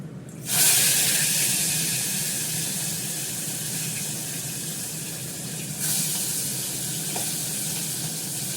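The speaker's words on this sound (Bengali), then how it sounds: "চিমনিটা চালিয়ে ভালো করে তাতলে মাছটা ভাজবো। কাতলা মাছ আছে, মাথা আছে।" Pieces of katla (rohu-type carp) fish and head frying in hot oil in a deep pan, a loud steady sizzle and hiss that flares up at the start and again midway, continuing unbroken.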